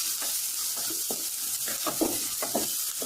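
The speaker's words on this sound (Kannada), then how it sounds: "ಒಂಚೂರು ಫ್ರೈ ಆಡು" Onions frying in a pan for Mangalorean butai pulimunchi, with a steady hiss of sizzling oil and repeated scraping stir strokes, close and continuous, no talking.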